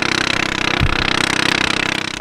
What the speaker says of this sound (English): And here comes another noisy boat.